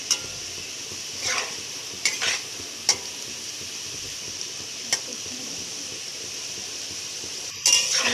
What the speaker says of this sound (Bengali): এদিকে আমার আলুটাও ভাজা হয়ে গেল, লাল লাল করে ভেজে নিতে হবে